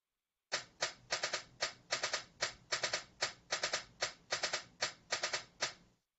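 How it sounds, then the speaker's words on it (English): Short broadband noise bursts sequenced in a repeating rhythmic pattern of clustered pulses, clean and alone, about a dozen groups over several seconds with no talking. "here's the same noise burst and the same intervals, only this time they're sequenced in a repeating order"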